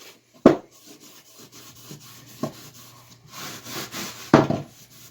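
Oil coat being rubbed onto the wooden handle of a vintage Proto hammer, heard as a few short, close scuffing strokes spaced several seconds apart over a quiet background.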